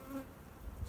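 Honey bees buzz at a hive during a spring inspection, a faint, steady hum of many insects heard close by with no speech.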